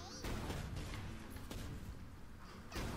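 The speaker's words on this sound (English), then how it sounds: "If I throw a mega bomb into here, I don't know what's gonna happen." Cartoon explosions and blasts from a mega bomb in the Worms Battlegrounds video game, loud broadband bursts and rumble over continuous game noise, with players talking.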